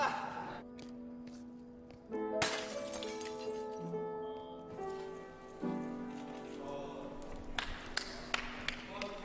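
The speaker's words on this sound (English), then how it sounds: "I hope that was fake glass." Glass shatters loudly on a film set outside Seoul, a sharp crash followed by scattered tinkling fragments and further impacts, with people's voices and a gasp around it.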